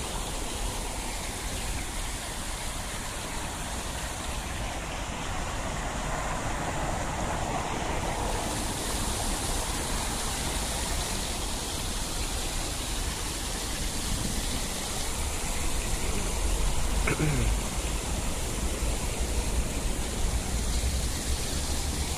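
Continuous splashing water from a fountain in Rossio Square, Lisbon, fills the scene, a dense steady rush with no pauses, moderately loud and close, like water pouring and spattering, with light rain falling.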